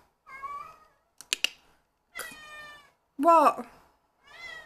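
A house cat meows several times indoors, short clear calls spaced apart, close and loud, with a brief tapping sound between them and a man's single short spoken word.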